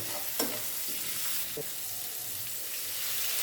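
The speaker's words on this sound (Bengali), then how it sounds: "মাছটা আমি একটু ভেজে নেব" Small native puti fish fry in oil with a faint, steady hiss and a couple of brief stirring knocks, quiet and continuous throughout.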